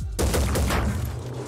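A quick burst of several gunshots in the video game Phoenix Point fires in rapid succession, loud and close, then fades into a reverberant tail.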